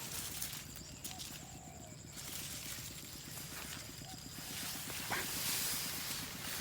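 Small engine of a water pump running in a rice field, steady rapid chugging pulses throughout, fairly close, with wind and faint outdoor sounds around it.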